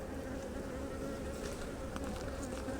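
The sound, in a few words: bees buzzing while foraging near hive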